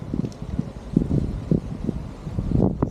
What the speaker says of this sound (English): It's nice and windy too.